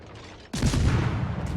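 A heavy naval gun salvo from ship guns in World of Warships crashes in after a quiet half-second, a loud close boom that rolls into a sustained rumbling roar to the end.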